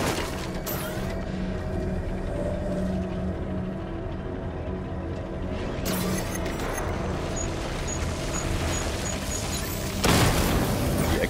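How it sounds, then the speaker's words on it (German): A game explosion in Batman Arkham Knight knocks out a main cannon amid dense, loud rumbling and crashing, with a sharp burst near the start, another around the middle and a heavy impact near the end. "Die Explosion hat die Hauptkanone ausgeschaltet."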